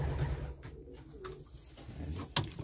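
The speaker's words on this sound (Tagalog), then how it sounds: "Malalaking ibon mga kalapatids." Pigeons coo softly in a loft of large breeding birds, low throaty coos under a steady background rumble, faint and fairly close with a few brief rustles.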